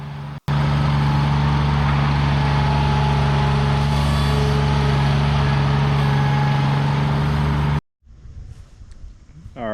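A Ventrac compact tractor working with a 72-inch blade to push dirt, its engine droning loud and close in a steady deep hum for most of the clip before cutting off abruptly, followed by quieter rustling.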